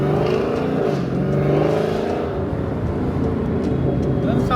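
A Dodge Hellcat fitted with a Formula Z exhaust pipe drives along, its engine a steady, loud, rumbling drone heard from inside or close by, with no distinct revs standing out.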